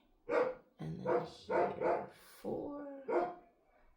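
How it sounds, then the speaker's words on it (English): German Shepherd dogs bark indoors, five or six sharp barks in uneven succession over four seconds, fairly close, with a person speaking briefly. "Excuse my dogs. They are German Shepherds and they bark at everything."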